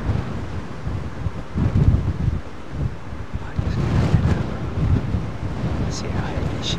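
Strong wind gusts buffet the microphone at Heathrow Airport, a loud, steady roar rising and falling throughout, with a voice talking faintly underneath.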